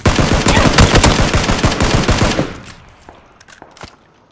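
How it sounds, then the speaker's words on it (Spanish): Rapid bursts of automatic gunfire in PlayerUnknown's Battlegrounds, loud and close for about two seconds, then fading into quieter scattered distant shots. "Se están disparando desde abajo."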